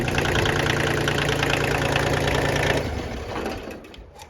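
A Kubota L2201DT 4WD tractor's diesel engine idles loudly nearby with a rapid, even knocking, then shuts off and rattles down into near quiet.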